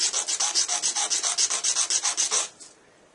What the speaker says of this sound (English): get your little piece of sandpaper and get rid of that little